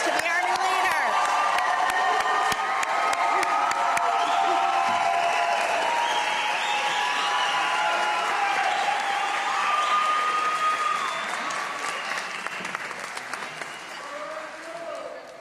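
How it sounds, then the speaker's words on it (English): A graduation audience claps loudly and continuously, cheering and whooping throughout. The applause is dense and sustained and thins a little near the end. "let's give them another round of applause"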